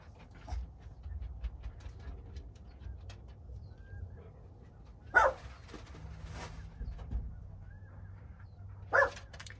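A dog gives two sharp, distinct barks a few seconds apart, fairly close, over a quiet outdoor background with faint bird coos and a low hum.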